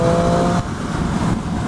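A 2013 Triumph Street Triple R motorcycle gives a loud, steady engine roar close by on a ride through Kent. The note dips slightly partway through, and there is no talk over it.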